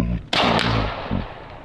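A sharp PCP air rifle gunshot cracks out nearby during a rabbit hunt, followed by a lingering noisy tail and a smaller thump, with no talking.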